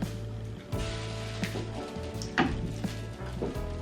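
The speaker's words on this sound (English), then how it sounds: "Also, we're gonna add in our green chilies. Stir those in." Green chilies are stirred into a chunky beef chili in a pot, giving a steady soft sizzle with several scraping spoon strokes against the pot.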